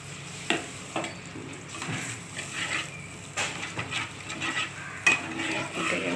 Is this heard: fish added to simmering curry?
yes